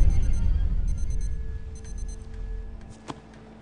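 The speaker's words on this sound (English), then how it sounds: "That ticking. You hear it?" A clock ticks steadily, a close mechanical tick-tock running through the clip over a low hum, with a sharper knock near the end.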